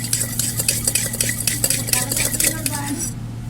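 Poha mixture with salt and chili powder being tossed and stirred in a bowl, a steady run of close scraping and clinking strokes for a few seconds before stopping.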